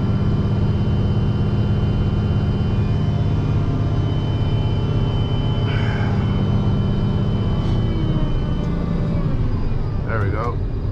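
A concrete truck's engine revs to lower the chute, giving a steady loud low rumble that dips and shifts pitch partway through, with faint clanks near the end.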